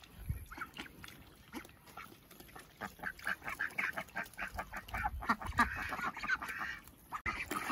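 A flock of ducks quacks steadily at a small backyard pond, with many overlapping calls forming a busy, continuous chorus at moderate loudness throughout.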